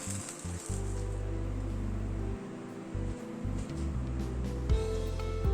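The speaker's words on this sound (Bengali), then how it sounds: "একইভাবে সবগুলোকে ভেজে নিচ্ছি।" Batter-coated breakfast pieces fry in a pan, a soft continuous sizzle heard close up beneath an intermittent low background hum, with no talk.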